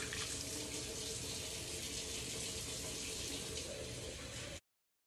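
Running water from a tap rinsing shampoo off a baby in a bath, a steady close rush that stops abruptly near the end.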